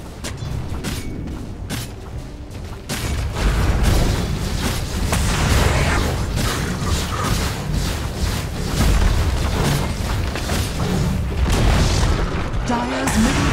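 A tower in Dota 2 comes under attack and is destroyed, heavy booming impacts and rumbling crashes rolling on continuously, louder after the first few seconds, with a voice speaking over the din.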